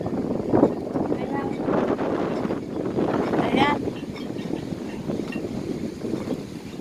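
Strong wind buffets the microphone with a constant roar, while people fishing talk beneath the gusts outdoors near water.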